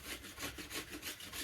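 Continuous rhythmic scraping of a rasp working yew bow wood, with steady back-and-forth strokes at close range, fairly quiet and alone without voices.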